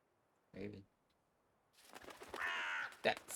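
A raven cawing, one short harsh call followed by a longer, noisier stretch of calls, with other sound mixed in toward the end and speech present nearby.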